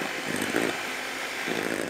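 An electric hand mixer whipping cream for homemade ice cream, a steady close motor whir with a slight rise and fall in loudness over two seconds, with no voices.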